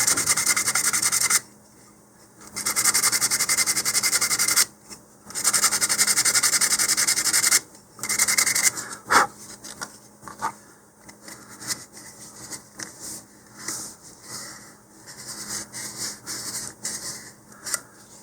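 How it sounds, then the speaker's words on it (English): Steady scratchy sanding strokes on a small hard 3D-printed plastic model rocket part, two long passes followed by shorter, irregular rubbing and light scraping. "I'm going to give that just a little bit of sanding,"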